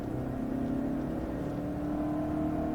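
A Hyundai Santa Cruz pickup in Preferred trim driving up twisty hills, its engine a steady, close whir under load with a slight rise in pitch and no talk.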